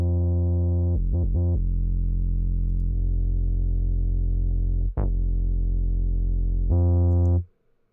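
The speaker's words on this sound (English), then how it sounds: "So you hear how that distortion just helps it bite through just a little bit more." A distorted synth tone with a buzzing, gritty edge from an orchestral hip hop sports track, held as long sustained notes with brief stuttered breaks, a short sweeping blip midway and a final louder chord, no voices.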